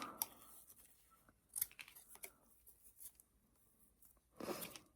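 Scissors snipping through ribbon on a rustic Christmas craft, a few quiet close crisp cuts spaced irregularly, with a longer rustling cut near the end and no voices.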